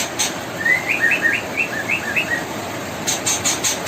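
White-rumped shama chicks give a run of thin, high chirps in quick succession, fairly close, over a steady hiss, with a brief brighter burst of calls near the end.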